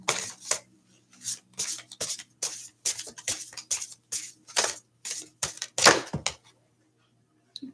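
Playing cards, apparently for an oracle or tarot reading, are shuffled in a quick series of crisp riffles and snaps, roughly a dozen short bursts close to the microphone, ending in quiet.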